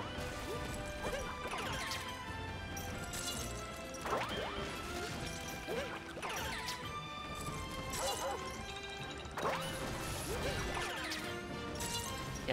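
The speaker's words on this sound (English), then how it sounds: "Just start smashing things and see what happens." Repeated crashing smashes and thwacks from Super Mario Odyssey gameplay in a swamp area, loud bursts recurring every couple of seconds over continuous game music.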